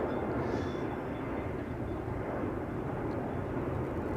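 The eighteen-year-old KLM airliner PH-BXU takes off from Schiphol's Polderbaan for Venice with a continuous, deep, rumbling engine roar at moderate distance and no one talking.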